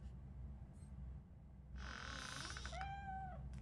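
A cat in the video game RoboCop: Rogue City lets out a drawn-out meow followed by a shorter, rising second call, set against a low steady ambient hum.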